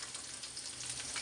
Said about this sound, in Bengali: পেঁয়াজ সুন্দর করে ভাজা নিলাম